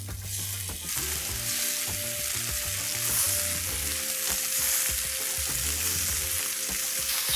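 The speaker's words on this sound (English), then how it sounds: "Now that the oil is medium hot, let's start frying these chicken pieces." Marinated chicken pieces pan fry in medium-hot oil with a loud, steady, close sizzle throughout, with faint stirring clicks and a soft tonal hum in the background.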